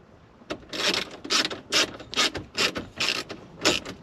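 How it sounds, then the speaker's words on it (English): A 7 millimeter socket wrench ratchets car stereo bolts tight, giving bursts of loud, close clicking strokes in an uneven rhythm, with short pauses between them and no voices. "So I'm just gonna break out that 7 millimeter, get it out here, tighten these down a little bit."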